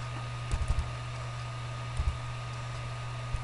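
Short bursts of computer keyboard typing while entering values in CAD software, a few quick clustered keystrokes with pauses between them, faint over a constant low electrical hum in a quiet room.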